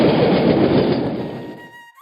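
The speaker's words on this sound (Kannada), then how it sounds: "ಒಂದು ಪ್ಯಾಸೆಂಜರ್ ಟ್ರೈನ್ ಆ ಟ್ರ್ಯಾಕ್ ದಾರಿಯಿಂದಾನೆ" A passenger train passes on a railway track with a loud, broad rumble of wheels and cars that fades toward the end.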